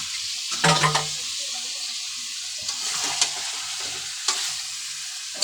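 Meat sizzles and fries with tomato in a pan for biryani, a steady loud hiss with a few clattering stirs and scrapes standing out above the continuous frying.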